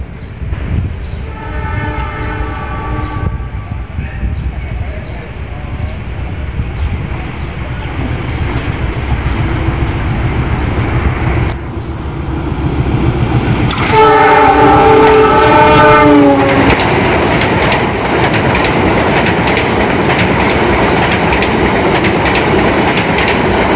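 The Lodaya passenger train passes through Cimekar station, with a long horn blast at the start and another about midway, then a loud, sustained rumble of wheels and carriages clattering by close up.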